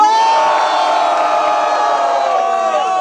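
Loud, sustained cheering from a big crowd at a freestyle rap battle in Guarulhos, voices shouting and whooping together without pause.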